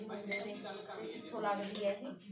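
Utensils and dishes being washed by hand, with repeated small clinks and clatter of metal and crockery mixed with a nearby voice-like hum throughout.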